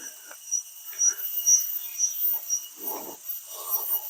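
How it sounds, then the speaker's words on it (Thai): Crickets chirp in a forest along a temple walking path, a thin high steady trill running throughout, with faint scattered rustles and a few soft lower sounds beneath. "เสียงจิ้งหรีด"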